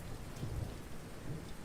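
Rain falling in the monsoon season, a soft, steady hiss of drops with low rumbling underneath, faint and continuous throughout.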